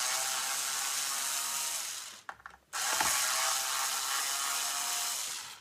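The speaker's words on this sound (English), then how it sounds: "time to tighten that up with my guitar spanner set, universal spanner set" A ratcheting guitar spanner tightens hardware on a Squier Bullet Mustang with a dense, steady run of fast metallic clicks, broken by a brief pause before the clicking resumes, close up and with no speech.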